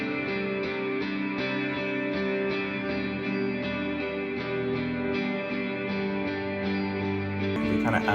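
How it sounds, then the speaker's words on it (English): Guitar chords washed in heavy reverb and chorus-like effects ring out in a layered, sustained wall of sound at a steady level. "the chorus has these really reverby chords that sound like this"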